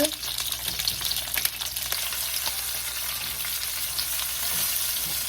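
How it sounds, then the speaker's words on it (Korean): Yellow croaker fish pan-fries in oil until golden, giving a steady, dense sizzle and crackle throughout with a few light stirring clicks, close up and without talking. "고기가 노릇노릇하게 잘 구워지고 있네요"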